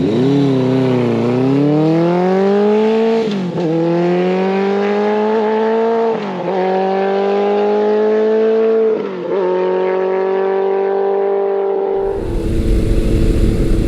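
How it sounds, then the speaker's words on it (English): A 1982 Suzuki GS1100G motorcycle with a Delkevic 4-into-1 exhaust accelerating hard, loud close engine note rising through several gear shifts with brief dips between, before cutting to wind rush at the end. "it sounds so good under load when you're giving it gas, and you'll hear it on the video here"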